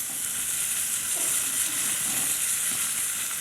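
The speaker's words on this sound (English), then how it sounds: "The browning of the meat takes about 8 to 10 minutes" A tied beef pot roast browning in a pot, giving off a steady, even sizzle and hiss of hot fat, close and continuous with no talking.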